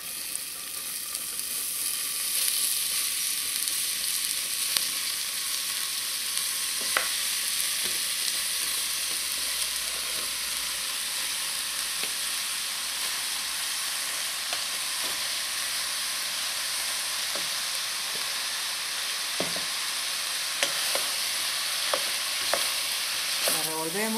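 Onion frying in hot oil for Chilean empanada pino filling, a long steady sizzle with repeated spoon scrapes and clicks against the pan as it is stirred, close and continuous, without speech.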